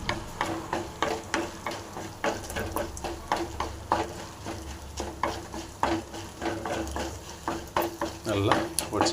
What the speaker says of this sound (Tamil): எண்ணெய் சூடாகிட்டு இருக்கு. இப்போ இந்த வத்தலை போட்டுடலாம். வத்தலை போட்டு நல்லா கலக்கிங்க.